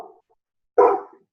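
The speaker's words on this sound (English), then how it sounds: "my dogs are making themselves known here" Two or three dogs bark indoors at something outside, one short yip followed by a loud, burst of barking that fades away.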